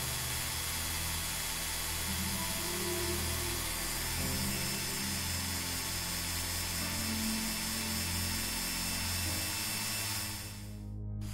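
A power tool steadily cuts around a GoPro Hero3+ baseplate, a continuous grinding whine with low motor drone holding for about ten seconds before stopping abruptly near the end.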